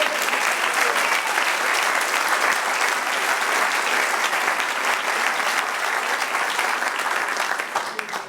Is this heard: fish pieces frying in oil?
no